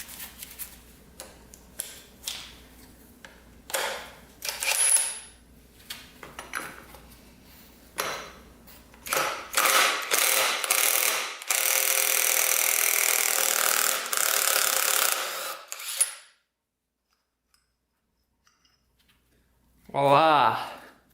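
Case splitter being cranked to separate Honda 400ex engine cases, with bursts of tool clicks and scraping, then a sustained loud grinding and creaking stretch before a sudden release and quiet.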